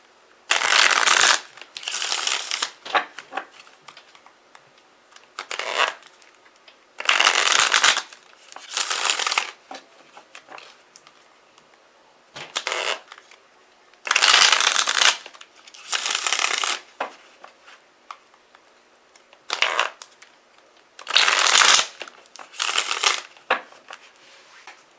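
Tarot cards are shuffled in repeated bursts: crisp riffling and flapping of the deck lasting a second or two each, separated by short pauses and lighter card handling, close and clear with no speech.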